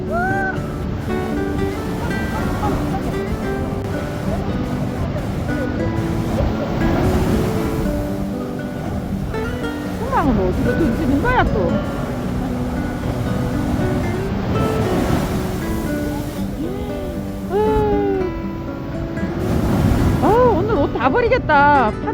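Heavy ocean waves crash and roar close by with gusting wind across the microphone, while people talk and exclaim over the surf.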